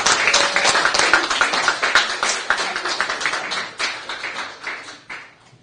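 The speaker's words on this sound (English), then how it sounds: "So we're going to give him a special Bajan thank you by applause." Audience applause for a thank-you at a prostate cancer awareness discussion in Barbados, a steady patter of many hands clapping close by that gradually thins and fades out, with no talk over it.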